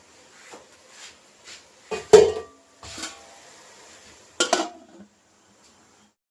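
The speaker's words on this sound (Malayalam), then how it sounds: "ഒന്ന് കുറച്ച് നേരം മൂടി വെക്കാം." A lid set over a cooking pot of Arabic chicken mahduth, several close metallic clanks and knocks spaced out over a few seconds, with quiet gaps between them.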